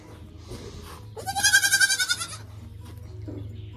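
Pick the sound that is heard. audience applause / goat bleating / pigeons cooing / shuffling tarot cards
goat bleating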